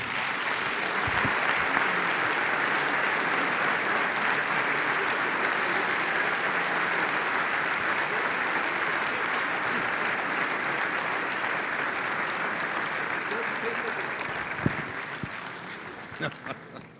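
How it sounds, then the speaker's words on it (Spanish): Loud, sustained audience applause at a Santiago Chamber of Commerce anniversary event, dense steady clapping filling the room for over fifteen seconds before tapering off at the end. "quiero pedirles un gran aplauso para terminar con estos dos hombres"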